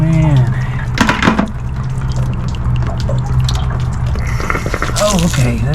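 Water gushes and spatters out of the drain valve of an RV camper water heater, a steady splashing flow with drips, while people talk over it.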